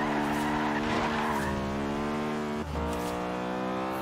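An Acura Integra Type R drifting in Forza Horizon 3, its tires squealing in a long, loud, steady skid over the engine's sustained drone, with a brief dip near the end.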